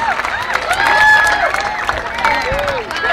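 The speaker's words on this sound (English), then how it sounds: "a big round of applause" Audience applause and cheering at a pyromusical fireworks competition in the Philippines, steady crowd noise with scattered whistles and voices, fairly loud and sustained throughout.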